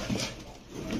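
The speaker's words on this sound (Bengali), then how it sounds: "খুবই ছটফটে কবুতর দর্শক দেখেন" A pigeon gives a single soft low coo, faint and close, over a brief moment of quiet background.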